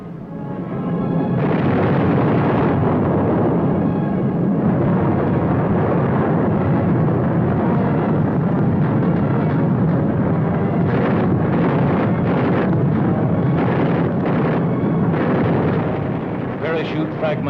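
Continuous heavy rumbling blasts and roaring noise, loud and sustained throughout, like distant explosions of WW2 fragmentation bombs dropped by B-25 bombers merging with engine drone.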